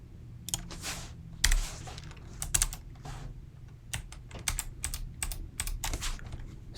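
Fast typing on a computer keyboard during a Django live coding session, steady bursts of crisp key clicks in irregular runs, close and moderately loud over a faint background hum.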